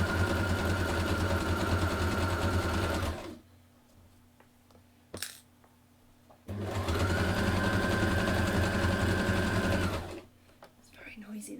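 A sewing machine whirs loudly in two long runs of steady stitching through pinned fabric, separated by a quiet pause with a brief click.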